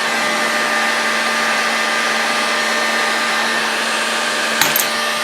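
A heating tool blows hot air steadily on a massive part during disassembly of a Moki 2.10 engine, a continuous broadband whoosh with a faint hum, holding level throughout with a brief click near the end.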